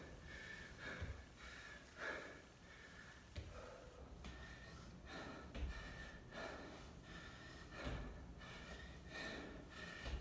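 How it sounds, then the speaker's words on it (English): Heavy, rhythmic breathing from a man during a bodyweight metabolic workout of lunges, repeated loud gasping inhales and exhales close to the microphone, roughly one breath per second, with little else audible. "you're hearing me breathing hard and harder every minute"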